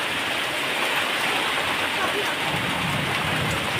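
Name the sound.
heavy rain with thunder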